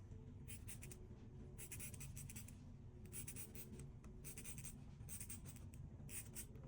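A chalk wheel marker rolls along a ruler across fabric, giving a steady scratchy clicking in repeated strokes, close and fairly faint, with no talking.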